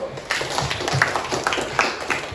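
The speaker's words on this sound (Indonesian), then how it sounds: "beri tepuk tangan kepada Elsa dan Ringo" Brief scattered clapping from a classroom of students applauding two classmates, Elsa and Ringo, a light, uneven patter of hands starting abruptly and continuing for a couple of seconds.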